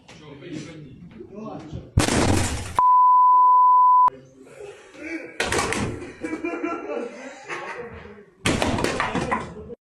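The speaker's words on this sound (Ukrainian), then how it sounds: "Гучний удар ногою у вхідні двері та сміх на фоні" Heavy kicks slam against an entrance door in a Zhytomyr lyceum, several loud broadband bangs spaced apart, with a long steady censor beep between them and background voices and laughter.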